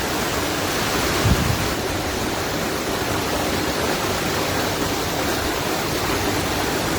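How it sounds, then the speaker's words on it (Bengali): Heavy afternoon downpour, a dense steady roar of rain pouring without letup, loud and continuous throughout. "এত বৃষ্টি হচ্ছে, এত কদিন ধরে বলার মতো না।"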